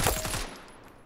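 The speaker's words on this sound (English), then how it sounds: "I'm loving the new weapon sounds" Gunfire from a weapon in the mobile shooter Standoff 2, a rapid burst of about four or five loud, close shots in the first half-second, then a fading echoing tail with no talk.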